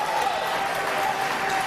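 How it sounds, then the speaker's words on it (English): Audience applause at a Connecticut gubernatorial debate, a dense steady patter of clapping from a crowd held at even loudness throughout, with a faint tone lingering underneath. "Please, I'm going to ask you to please hold your applause."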